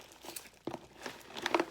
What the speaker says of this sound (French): Donc je farfouille.